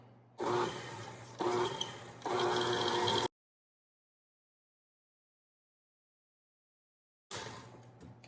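An electric mixer on low speed mixes cookie dough with flour for graham cracker cookies, whirring in three short bursts, then a long silence before it starts again near the end.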